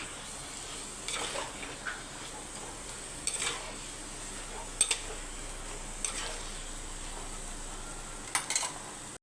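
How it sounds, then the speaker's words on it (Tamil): A spoon stirs chicken curry masala in a pan, giving occasional scraping clinks against the metal over a soft, steady sizzle, with a few sharper knocks near the end. "போட்டு நல்லா மிக்ஸ் பண்ணிக்கலாம்"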